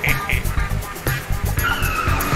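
A cartoon monster police car skids and squeals its tires in repeated bursts, loud and close, over a busy backdrop of engine noise and music.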